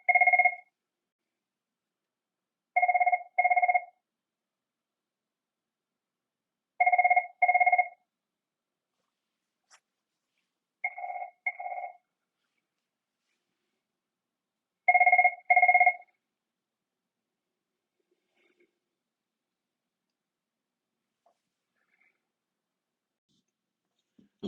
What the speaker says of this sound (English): I had to take a phone call.